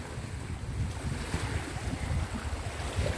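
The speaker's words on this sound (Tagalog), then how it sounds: "Lakas ng alon, no?" Rough sea waves churn and slap near Basalt Island with heavy wind buffeting the microphone, a low rumbling roar throughout with no talking.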